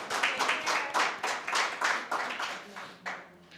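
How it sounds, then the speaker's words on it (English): Audience at a public sector debate competition applauds the debaters, a clear rhythmic run of claps with distinct bursts that taper off toward the end. "Let's give them another round of applause."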